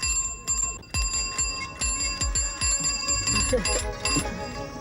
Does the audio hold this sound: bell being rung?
yes